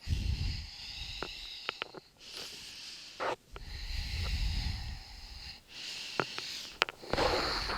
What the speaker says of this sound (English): To me, I'm just breathing normally.